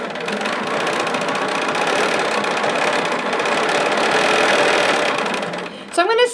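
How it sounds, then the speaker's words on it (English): A Bernina 770 sewing machine stitches with its stitch regulator, a steady, close whirring hum running continuously for about six seconds, then it stops abruptly and a short rising whine follows at the end. "So I'm going to stop sewing."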